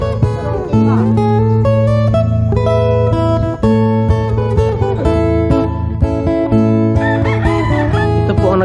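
Several roosters crow over one another at a rooster farm in Davao City, loud and close, long drawn-out calls overlapping almost without a break.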